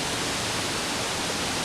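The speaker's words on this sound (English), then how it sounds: "It is pretty windy here today." Wind outdoors buffets a camera microphone with a constant, loud, dense roar that drowns out everything else.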